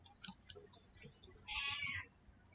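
A cat meows indoors, one drawn-out, fairly loud cry in the middle, preceded by faint small clicks and taps in a quiet room.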